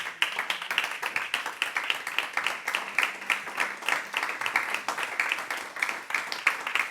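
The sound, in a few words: congregation applause in church service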